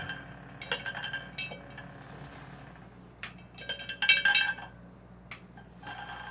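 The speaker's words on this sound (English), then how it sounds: "Let's stir it just another couple of minutes" A chemical mixture is stirred in glassware, with faint scattered clinks and taps of glass against glass over a quiet room, coming in short irregular bursts with a busier clatter near the middle.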